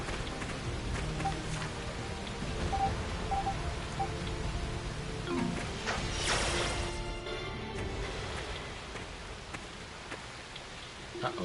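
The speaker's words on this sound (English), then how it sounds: "The rain's really starting to pick up." Steady rain falls in the video game Ys: Memories of Celceta, a soft constant patter with occasional faint ticks and a brief louder swell partway through, with no talk.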